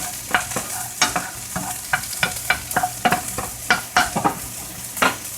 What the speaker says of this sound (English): keep stirring this stuff. Don't let it stick to the pan